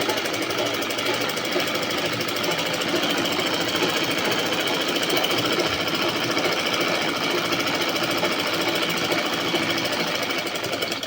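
A sewing machine stitches a seam on fabric, running continuously with a fast, dense mechanical rattle at close range and steady loudness from start to finish.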